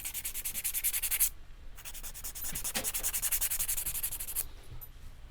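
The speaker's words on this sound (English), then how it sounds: "I take a relatively rough grit and just sort of gently shape it" A rough grit file rubs back and forth across a flamenco guitarist's fingernails, giving close, steady rasping strokes in a regular rhythm, broken by one short pause partway through.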